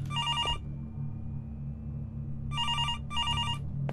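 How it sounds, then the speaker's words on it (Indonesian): An in-game telephone in the horror game Araya rings in repeated electronic bursts, one short ring then two more after a pause, loud and clear over a steady low ambient hum, with no one talking. "Oke, ada telepon di sini."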